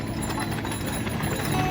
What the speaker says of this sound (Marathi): बघा बैलगाडी,